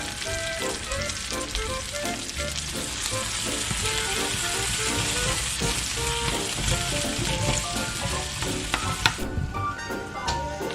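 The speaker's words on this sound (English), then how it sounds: "So we're sauteing our onions in the same pan." Onions sauté in a pan that has just seared a roast, giving a loud, steady sizzle and crackle with occasional stirring, close up and uninterrupted by voices.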